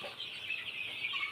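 Thousands of 12-day-old Sonali meat chickens on a poultry farm in Sonatala, Bogura, make a dense, steady chorus of high clucks and peeps that merges into a constant murmur, with no talking.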